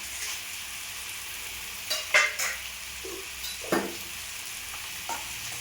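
Mustard seeds with bay leaf, cinnamon, star anise and cloves sizzle in hot oil for a tomato kurma tempering, a steady hiss broken by a few sharp stirring scrapes and pops, with no talking.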